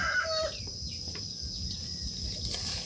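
Free-range village chickens cluck and a rooster crows nearby at a hot outdoor home kitchen in Thailand, the calls layered over steady background hiss.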